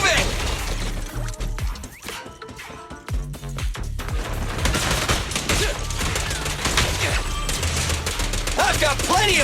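Rapid gunfire rattles through a Zenless Zone Zero battle, bursts of shots mixed with sharp impacts and crashes, under character voices calling out during the fight.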